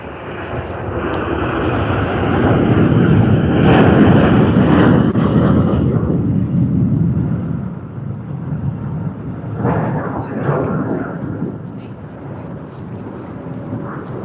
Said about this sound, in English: What a lovely takeoff from LATAM Airlines on its flight to Santiago.